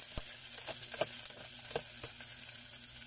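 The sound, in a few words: garlic and onion frying in a pan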